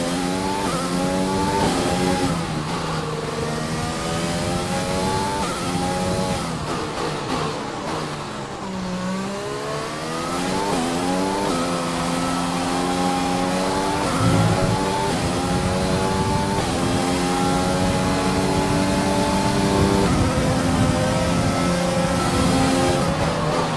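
Formula One car engines in the F1 2020 racing game scream continuously at high revs, with pitch rising and falling through gear changes over a full-track drone.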